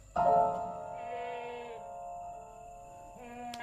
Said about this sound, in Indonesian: Pak, kambingnya berisik, Pak.